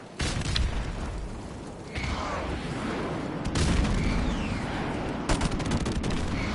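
Heavy airstrike explosions and rattling gunfire from Call of Duty: Modern Warfare Remastered, with loud booms landing at intervals over continuous crackling shots and a dense battlefield din throughout.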